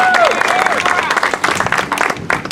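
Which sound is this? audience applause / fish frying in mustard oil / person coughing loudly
audience applause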